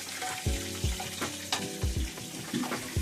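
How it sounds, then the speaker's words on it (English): Mac and cheese balls deep-fry in hot oil, a quiet, steady sizzle broken by repeated soft pops and bubbling bursts, with no talking. "These are going to be deep fried mac and cheese balls"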